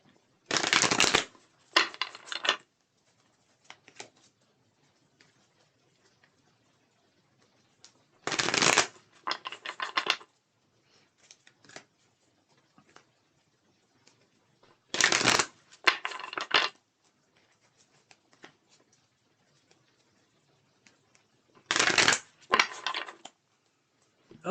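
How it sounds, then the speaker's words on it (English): Tarot cards being shuffled by hand in four bursts of rapid riffling and snapping, each a couple of seconds long, spaced several seconds apart with near silence between, close and crisp. "shuffle these energy cards."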